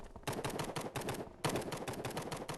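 Rapid bursts of automatic gunfire in the video game Hide Online, two loud volleys of fast repeated shots separated by a short pause, with no talk over them.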